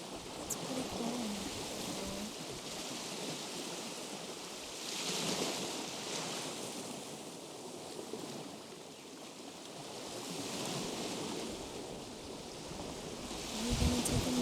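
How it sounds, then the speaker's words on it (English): Gentle ocean waves wash on a beach, a broad steady roar that swells and recedes in slow surges every few seconds, distant and soft, with no voices. "The waves don't seem to be as rough as they were yesterday."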